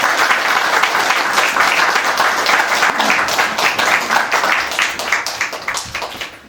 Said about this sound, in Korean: 부산센터의 보물이라고 불리우시는 전종현 강사님을 앞으로 모실 때 큰 박수 부탁드리겠습니다.